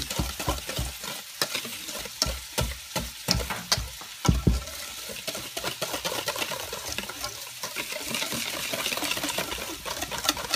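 A spoon stirs poured liquid into a sweet Portuguese bread dough mixture in a bowl, making steady wet scraping and sloshing sounds that continue throughout with no talking.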